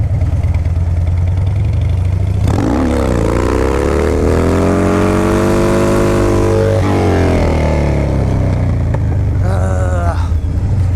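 A Harley motorcycle on a Shinko 777 tire revs hard during a wheelie attempt, the engine note rising and sweeping through a sustained strained pull before dropping back to a steady idle, loud and close throughout.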